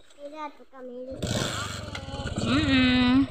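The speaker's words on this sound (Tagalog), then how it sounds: "Motor namin mga kaibigan na sinakyan, yan si King" A motorcycle engine starts up and runs with a loud, rough, rhythmic putter, revving slightly, while someone talks before and over it.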